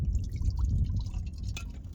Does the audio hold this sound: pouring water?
yes